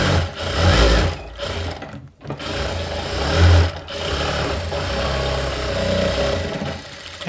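A sewing machine runs steadily while stitching a princess cut blouse. The whirring goes on for most of the span, dips once briefly and then resumes, and it is heard alone and up close.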